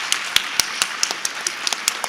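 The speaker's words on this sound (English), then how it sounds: "Please join me in giving one more round of applause to the folks who made this happen." Applause from an audience at the Building One South Carolina Forum at the International African American Museum, heard as a scattered run of sharp individual claps, fairly close, with no voices.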